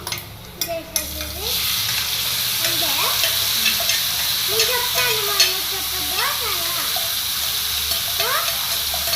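A curry mixture of chukkudu kayalu and tomato masala is tipped into a sizzling tempering and stirred, with loud frying hiss, clattering spoon strokes and faint voices in the background.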